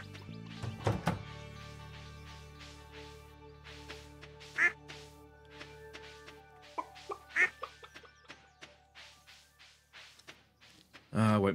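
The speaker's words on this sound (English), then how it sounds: "Damn ducks." Ducks in Stardew Valley quack in a scattered series of short, nasal calls, some close and loud, others softer, mixed with occasional thunks and a voice talking.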